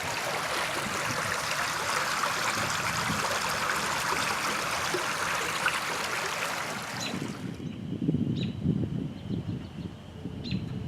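A small stream swollen by heavy rain rushes along in a steady, close broadband wash for about seven seconds, then fades abruptly, leaving soft low rustling and faint distant chirps.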